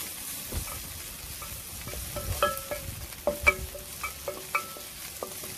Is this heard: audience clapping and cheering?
no